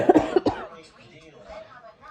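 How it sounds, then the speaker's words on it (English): A couple of sharp, close coughs in quick succession, followed by quiet. "that's the cough, and then it stays in my throat for a little bit"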